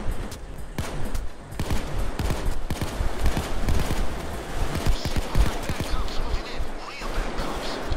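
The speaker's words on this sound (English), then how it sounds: "They're just shooting retardedly." Gunfire in the video game Payday 2, dense overlapping automatic bursts and shots throughout, loud and continuous, with a voice talking over it.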